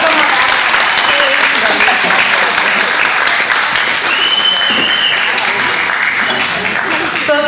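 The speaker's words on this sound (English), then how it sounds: "Let's give them a round" A crowd at a youth alliance fundraiser applauds in a sustained burst of clapping while a voice speaks briefly over it.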